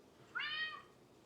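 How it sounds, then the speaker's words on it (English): A house cat gives one clear, drawn-out meow, close but fairly quiet in a still indoor room. "I don't know why you're meowing so hard"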